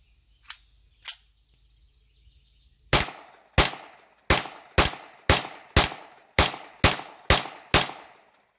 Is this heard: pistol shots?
yes